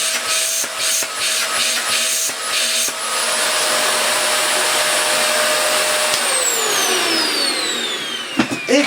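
A Vax Mach Air vacuum cleaner, just plugged in after its filter was refitted, runs loud and close with a steady whine and a few bumps and knocks at the start, with no talk.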